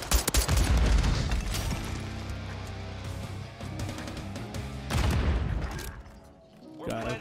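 EBR-14 rifle fire in a search-and-destroy match of a video game crackles in loud, sharp bursts, with booming shots and rattling reports clustered at the start and again near the end, a voice speaking underneath.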